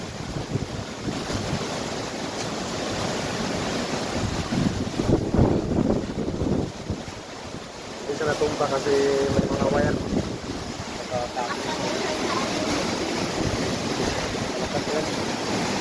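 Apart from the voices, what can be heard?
sea waves and wind during Typhoon Opong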